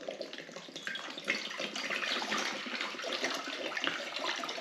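Water runs steadily from a tap into a pot being filled to boil yabbies, a continuous close splashing gush with no voices.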